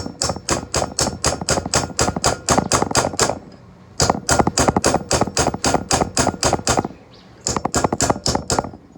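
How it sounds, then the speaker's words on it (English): A light hammer taps off the sawn tops of barrel tenons on a smoothbore gun barrel: three bursts of rapid, sharp, evenly spaced taps, close by, with brief pauses between them. "I'm just tapping very lightly and just removing the tops"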